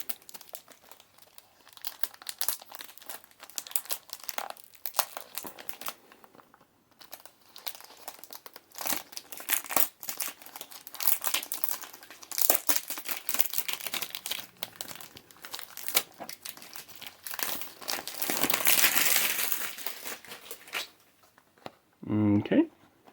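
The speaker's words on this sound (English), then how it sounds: "I'll go right ahead and take out the final plastic wrap from it." Plastic wrap being peeled off a Rasasi Hawas Viper perfume box: dense crinkling and crackling in bursts, close and fairly quiet, with a brief pause midway and a short sharper rustle at the end.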